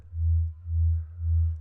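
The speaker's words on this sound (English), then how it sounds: "we're going to start off just with a basic shape sine wave down here at -12" Sine-wave bass patch in the Vital synthesizer, set to three unison voices at -12, sounding as three low, smooth pulsing swells, each about half a second, alone with no talk.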